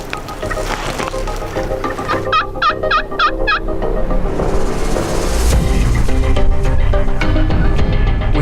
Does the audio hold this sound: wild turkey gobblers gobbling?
yes